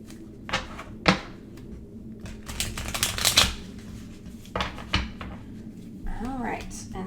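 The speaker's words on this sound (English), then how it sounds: "I'm going to take all these and shuffle them back with this other pile" Playing cards being shuffled back into a pile for a solo tabletop card game, quick riffling bursts and soft papery slaps close by at a moderate level.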